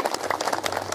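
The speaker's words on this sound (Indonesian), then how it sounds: "Tepuk tangan untuk para kiai Garut." Audience applause for Garut clerics during an Islamic sermon gathering, a short, dense burst of many hands clapping, steady and fairly loud.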